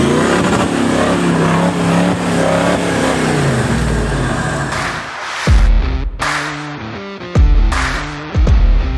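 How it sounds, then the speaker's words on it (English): Engine of a modified 76 Series Toyota Land Cruiser, loud and close, holding a strong droning idle before several sharp revving bursts that rise and drop back. "this is my rig, Pumba 76 Land Cruiser"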